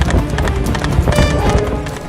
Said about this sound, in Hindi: इस घोड़े की सवारी बड़े मजे से कर रहे हैं